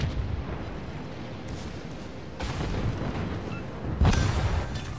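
A ship blows up in the naval battle game World of Warships: Legends, heavy booming blasts and rumble over continuous low battle noise, with a sharp loud burst near the end.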